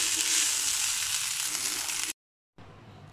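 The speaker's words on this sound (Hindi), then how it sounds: "तवे पे ही राइस गर्म करने का प्लान किया कि हमें कोई बर्तन ना धोना पड़े" Rice warming on a tawa griddle, a steady bright sizzle and crackle close by that cuts out abruptly for a moment, then resumes more softly.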